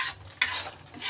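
Amul butter frying and stirring in a pan for a shahi makhana paneer curry, a soft steady sizzle with a brief louder scrape of a spoon midway.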